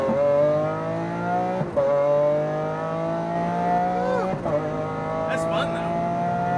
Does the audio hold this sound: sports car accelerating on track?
yes